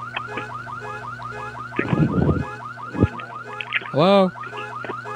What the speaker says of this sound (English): Can you turn off this alarm on your pickup here?